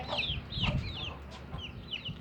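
A hen clucks softly with repeated short calls across a couple of seconds, fairly quiet and close, in a backyard flock with her six young chicks.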